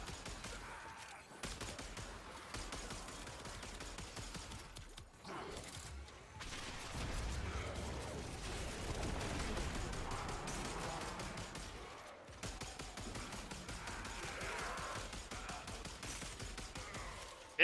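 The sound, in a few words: gunfire in a video game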